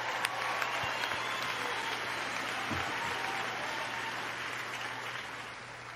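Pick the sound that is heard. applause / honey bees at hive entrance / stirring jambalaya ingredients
applause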